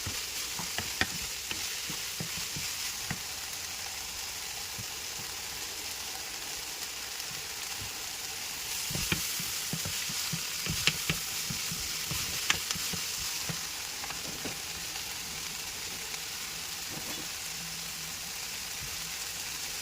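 Onions and aromatics sautéing in a pan for coconut milk chicken curry, a soft, steady sizzle close by with occasional light clicks and stirring scrapes throughout, no voices.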